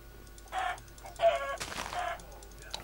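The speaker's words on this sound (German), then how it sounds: "Gebt mir was zu essen, ihr kleinen Hühnchen. Und produziert Eier." Blocky Minecraft chickens cluck in three short bursts, each a quick nasal squawk, close and fairly loud over a faint game background hum with no talk.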